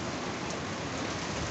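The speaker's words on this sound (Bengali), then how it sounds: "ঝড়ো হাওয়াটা এখন একটু কমেছে, বৃষ্টিটা হচ্ছে ভালোই।" Steady rain pours down during the first Kalbaishakhi storm of the year, a dense continuous hiss that fills the clip evenly after the strong winds have eased, with no voices.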